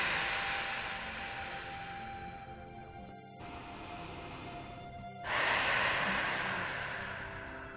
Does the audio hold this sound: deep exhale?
yes